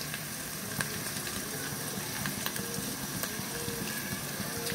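Garlic, onion and turmeric powder fry in a pan at home, giving a continuous soft sizzle with faint scattered crackles and light stirring, fairly quiet and steady throughout.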